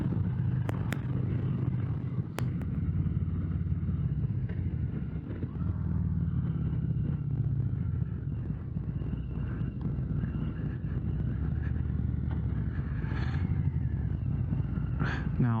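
Harley-Davidson motorcycle engine rumbles steadily and fairly loud throughout a ride, a continuous low throb mixed with wind buffeting, with no breaks in the sound.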